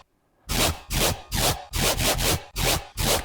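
Serum synth patch driven hard through overdrive, giving seven harsh, noisy, swelling pulses in a steady rhythm after a brief quiet start, loud and alone.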